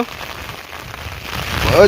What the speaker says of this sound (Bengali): যে কারণে বৃষ্টি হচ্ছে দেখো